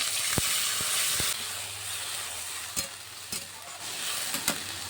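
Taro and onion frying in an oiled pan with spices over a strong flame, a steady broad sizzle with a few sharp clacks of a spoon against the pan, no talking.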